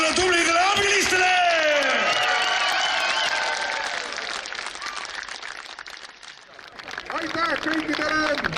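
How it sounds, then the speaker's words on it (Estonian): Crowd applause for helpers at a county defence day event in Raadi, broad sustained clapping with some cheering and voices mixed in, loud at first, fading midway, then swelling again near the end. "ja aplaus meie tublidele abilistele!"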